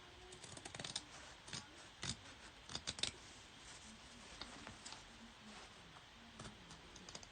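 Scissors snip through fabric appliqué in a series of sharp, irregular cuts, close and fairly quiet, with no talking.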